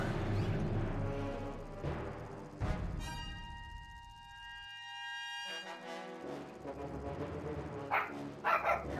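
Real dogs barking and yipping in a room during a War Thunder game session, with several sharp barks, a pause with a tonal game sound, then more barks toward the end.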